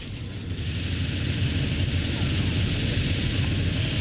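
A helicopter in TimeSplitters 2 roars steadily and loudly with a dense whirring rumble that swells in just after the start and holds constant, with no speech over it.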